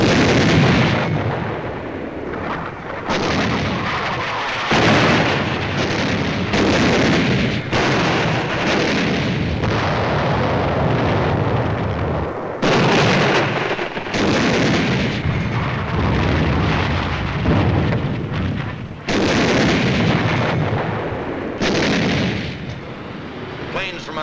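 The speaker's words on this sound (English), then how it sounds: "The Navy begins to soften up the island so we can land." Naval artillery pounds Iwo Jima in a pre-landing bombardment: dense, loud, continuous booms and blasts rolling over one another, with brief lulls between heavy volleys and a dramatic voice narrating over them.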